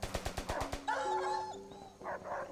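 Dogs bark in Call of Duty: World at War, a quick run of sharp barks up front followed by a yelp and whimper amid game noise.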